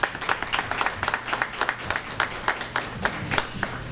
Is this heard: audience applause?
yes